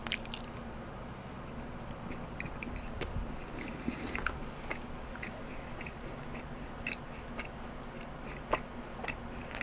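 Soft, chewy gourmet chocolate chunk cookies are chewed up close, with moist squishy bites and small clicking mouth sounds over a low steady background, and no talking.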